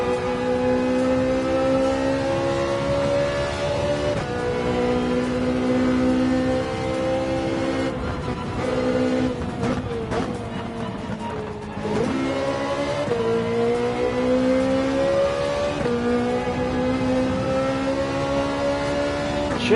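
A flat-plane crank V8 race car engine in Gran Turismo 7 at Bathurst drones steadily at high revs, dipping and climbing through gear changes for nearly twenty seconds, loud and continuous with occasional tire noise.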